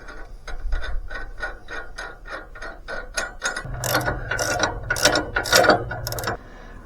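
A hand ratchet clicks in quick steady strokes while tightening U-bolts to fit a new axle kit onto a trailer, close and clear, with heavier metallic rattling in the later strokes.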